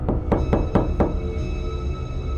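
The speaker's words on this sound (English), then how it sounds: "3 dull thuds, faint, from below." Five dull, muffled thuds from below in a house in quick succession over a low steady hum, then the knocking stops.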